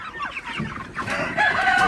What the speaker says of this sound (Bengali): তো মুরগিগুলো নিতে আসতেছে এখনই আসলে